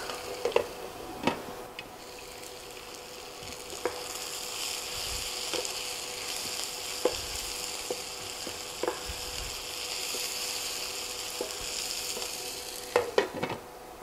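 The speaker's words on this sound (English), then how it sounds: "To speed up the process to get those onions nice and caramelized, you can put a lid on" Onions caramelizing under a lid in a skillet for a French onion ground beef and rice meal give off a steady soft sizzle, broken by occasional sharp clicks and light taps of a utensil, with no talking.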